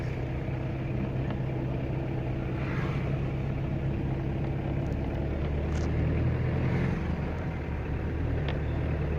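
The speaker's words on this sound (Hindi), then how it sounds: "अब धीरे धीरे एक्सीलेटर को प्लस करेंगे जिससे गाड़ी की स्पीड हो।" A car being driven and gently accelerated during a driving lesson, with a steady close engine rumble and low drone that holds at an even level throughout, and no speech.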